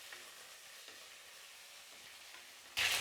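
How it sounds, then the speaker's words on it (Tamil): Crushed garlic sizzles in hot oil with mustard seeds and lentils, a steady soft crackle with brief stirring scrapes, then a louder burst of hissing near the end. "இடித்து வச்சுருக்கிற பூண்டு சேர்த்துக்கிறேன்."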